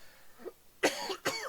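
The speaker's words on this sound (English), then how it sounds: "I've coughed down the microphone" A person coughs close into a microphone, two sharp, loud coughs following a brief faint throat sound, with no talking.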